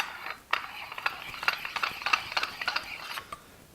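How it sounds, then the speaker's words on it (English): A castle nut is threaded by hand onto the threaded collar of a Ronin 2 universal Mitchell mount. Close, quiet metallic clicks and ratcheting scrapes repeat in quick, uneven succession for a few seconds. "then you take the castle nut and you can now thread that on."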